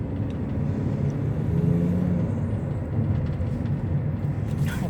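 A red fire department truck rumbles past in Oxford, Alabama, a steady low roar of road traffic heard from nearby, with a faint swell in the middle.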